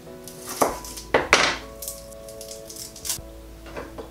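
A knife chops garlic finely on a cutting board, producing a few sharp, close knocks spaced irregularly over quiet kitchen background.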